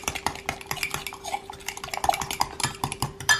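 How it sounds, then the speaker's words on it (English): A utensil stirs chaffle batter in a bowl, making close, repeated scraping and clinking strokes against the sides in an uneven rhythm. "Let's stir it up."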